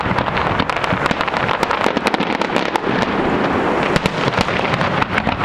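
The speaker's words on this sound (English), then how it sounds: "it's really hard to hold your camera steady while you're trying to watch fireworks out in the middle of an ocean" Fireworks at the 2010 Olympics crackle and pop over the ocean, a dense, continuous barrage of sharp bursts heard from a distance without a pause.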